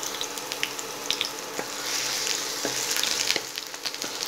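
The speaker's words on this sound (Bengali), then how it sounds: "30 সেকেন্ডসের মতো আদা আর রসুনটা আমি ফ্রাই করে" Chopped ginger and garlic frying in hot refined oil, a continuous close hiss and crackle with scattered sharp pops and light spatula taps, no voices.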